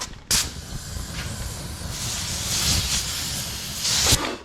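A tubeless tire on a 2018 Honda CRF450R dirt bike being inflated: a sudden sharp pop as the bead seats, then steady loud air hissing, ending with a second sharp burst, close by, with no speech.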